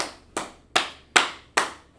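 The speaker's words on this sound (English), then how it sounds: "Clap it up for Aisha" Audience clapping for Aisha on a live stream, five sharp, evenly spaced claps about half a second apart, near and fairly loud, with no talking.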